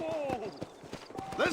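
Horse hooves clip-clopping in the video game Red Dead Redemption, a quick rhythmic run of hoofbeats mixed with other game sounds and a brief whinny-like tone, under an overlapping voice.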